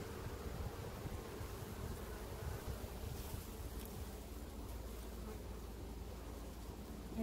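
Honey bees buzzing at an open beehive that holds a queen and capped brood, a steady, low, close hum that keeps going throughout, with no voices.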